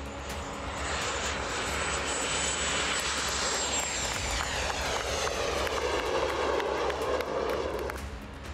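An MQ-9B Predator drone flies past, its aircraft engine giving a loud, steady drone that holds for the whole stretch with a slowly shifting whine and no voices.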